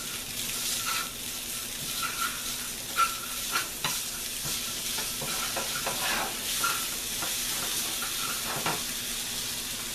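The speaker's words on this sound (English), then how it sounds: "Now stir it up so all that yellowness gets everywhere." Stir-fry with soy sauce being stirred in a hot pan: a steady frying sizzle and hiss runs throughout, broken by soft scraping stirs and a few light clinks of utensil on pan, with no talking.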